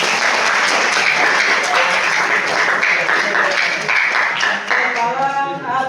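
A classroom full of students applauds during a micro-teaching exam lesson, steady dense clapping filling the whole stretch at close range, with voices mixed in.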